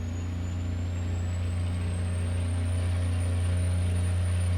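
A Freightliner FLD semi pulling a grain load in American Truck Simulator drones steadily and loudly, a constant low engine rumble with a faint whine that rises slowly.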